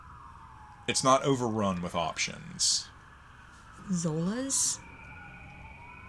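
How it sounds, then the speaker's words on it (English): A siren wails faintly in the distance, its long rising and falling tone running under a woman's nearby speech. "If y'all can hear the sirens in the background"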